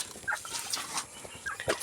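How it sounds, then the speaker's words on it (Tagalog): Farmyard chickens cluck in short, scattered bursts at close range, several birds overlapping in quick irregular calls with no voices. "At yung mga alaga nating manok dito"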